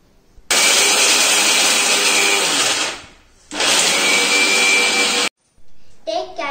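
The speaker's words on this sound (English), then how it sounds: "take a bowl of cashew nuts and grind it." An electric kitchen grinder whirs loudly as it grinds cashew nuts into powder, running in two sustained bursts with a brief stop between them, followed by a short faint rattle.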